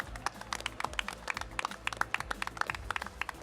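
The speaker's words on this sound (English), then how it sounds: "A round of applause for that gentleman." An audience claps in a round of applause at the 2019 Potato Expo, a dense run of sharp hand claps at moderate level, steady for a few seconds.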